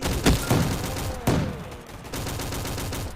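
A powerful gun fires in a Roblox zombie-survival game, with loud, close blasts in quick succession, a few heavy shots followed by a rolling burst of gunfire. No one speaks.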